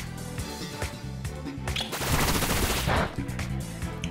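Bullet Seed from Pokémon Scarlet fires as a rapid burst of rattling impacts, like fast gunfire, with a dense louder flurry in the middle over a steady low game soundtrack.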